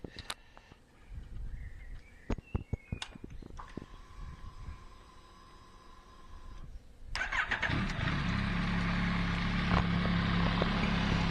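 Clicks and rattles, then a Yamaha MT-09 motorcycle with a DNA air filter and modified airbox cranks and fires, settling into a steady, loud idle rumble close by.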